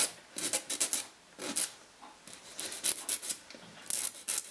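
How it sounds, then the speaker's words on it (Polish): A nail file rasps against fingernails in quick, light scratchy strokes, close but soft, coming in uneven bursts with short pauses between them. "Biorę pilniczek i przypiłowywuję sobie swoje paznokcie."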